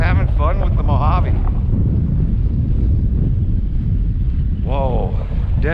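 Heavy wind buffets the microphone throughout, a loud continuous rumble, with the small whining motor of an Arrma Mojave 4S RC car rising and falling over it at the start and near the end.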